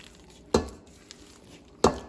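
Spices and olives for olive bread being mixed in a bowl, two sharp clattering knocks of a utensil against the dish with soft scraping in between.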